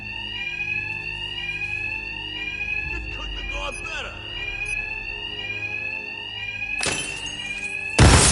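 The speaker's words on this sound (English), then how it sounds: "these thugs can't hear a thing over the alarms." Bank alarms in Batman: Arkham Knight ring loud and unbroken in a steady high electronic tone, with a voice speaking over them and a few heavy thuds and a crash near the end.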